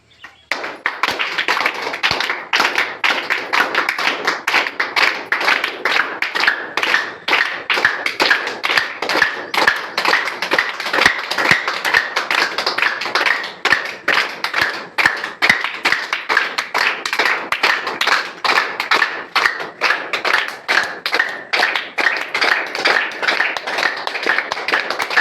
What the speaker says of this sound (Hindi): बाएं हाथ पर दाहिने हाथ से हम ताली बजाएंगे